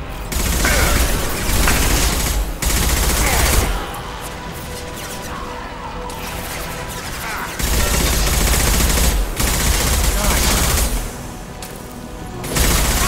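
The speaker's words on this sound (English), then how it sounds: "Firing concussive shot!" Concussive shots fired in Mass Effect 2, with repeated loud blasts and crashing impacts coming in heavy bursts amid ongoing combat gunfire, broken by brief quieter gaps.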